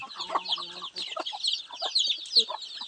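Palawan native chickens, including hens with chicks, cluck steadily on a farm, with dense overlapping bird calls and a brief low bird note near the start, all close and moderately loud.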